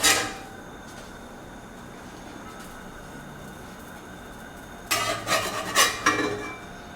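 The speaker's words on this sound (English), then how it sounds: "Give them a little flippy flip." English muffins flipped in a buttered pan, a sharp clatter at the start followed by quiet sizzling, then a cluster of scraping, clinking pan and utensil sounds toward the end.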